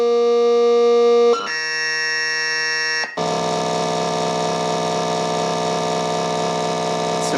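Electronic tones from a circuit-bent computer: a steady buzzing drone that jumps abruptly between pitches twice, settling into a dense, harsh, sustained multi-tone whine, loud and alone.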